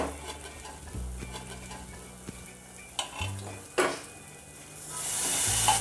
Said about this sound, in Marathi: तर आपण आता हे कुकरमधलं सूप यामध्ये घालूया.